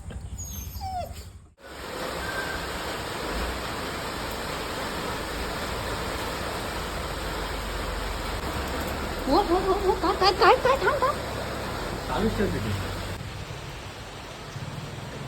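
Steady rain falls throughout as a dense, even hiss. A dog whimpers in short high cries partway through, and a voice briefly speaks.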